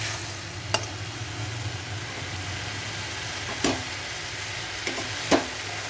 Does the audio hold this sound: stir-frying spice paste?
yes